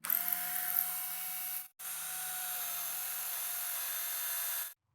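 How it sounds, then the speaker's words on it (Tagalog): A power drill driving a long screw through wood to bore holes, whining steadily at high pitch in two sustained bursts separated by a brief pause, close and alone. "Gagamit po tayo ng screw para mabutasan po natin yung mga kahoy."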